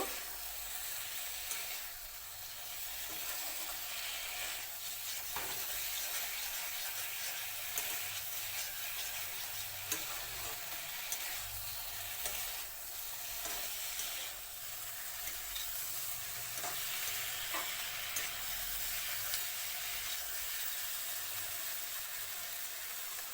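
Potato and okra sizzle steadily in a hot pan for aloo bhindi, a continuous close frying hiss with occasional soft scraping stir strokes and no voices.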